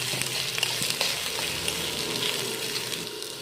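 Bitter gourd pieces frying in a pan make a constant crackling sizzle, close and even throughout, broken by occasional small pops and spatters.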